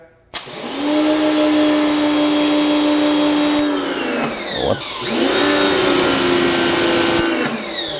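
A Harbor Freight Portland 1750 electric pressure washer with a 40-degree nozzle starts abruptly and runs with a loud, steady motor whine and hiss. Its pitch dips twice mid-run before recovering, close by, with no talk.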